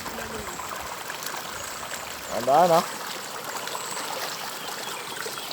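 Water flows steadily in a constant rushing wash throughout in Bataan, with a brief voice speaking over it midway.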